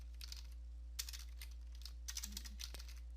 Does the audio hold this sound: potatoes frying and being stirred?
no